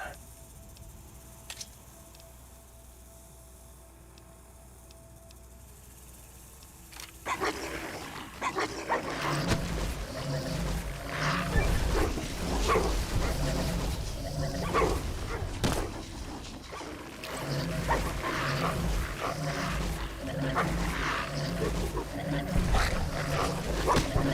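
Hostile dogs growl and snarl in a combat scene from Fallout: New Vegas, Old World Blues DLC, with loud animal noise and game action filling the clip after a quiet opening, while a player talks over it.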